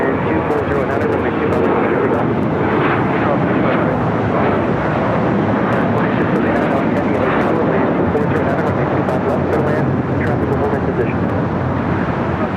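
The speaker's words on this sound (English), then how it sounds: "Lufthansa, the 747-8 Intercontinental, slowly but surely making its way over to Tom Bradley." A Lufthansa Boeing 747-8 Intercontinental taxis at LAX, giving off a steady, loud engine roar and rumble without a break throughout.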